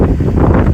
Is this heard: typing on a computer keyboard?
no